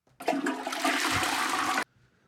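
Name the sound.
toilet flushing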